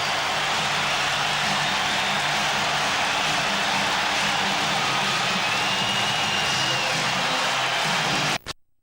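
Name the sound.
basketball arena crowd cheering at Lakers game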